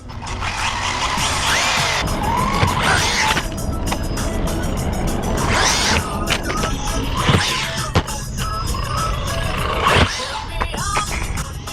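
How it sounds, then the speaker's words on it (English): An XLF F17 full-metal brushless 3S RC car on speed tires makes high-speed runs, its motor whining in repeated surges as it passes near and away, loud against steady background noise. "XFL F17 full metal brushless 3S speed run, speed tires, speed everything."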